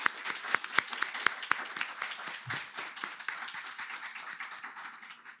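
An audience at a panel discussion on women's rights and treaty interpretation applauds the distinguished panelists with steady, fairly soft clapping, individual claps distinct over a continuous patter.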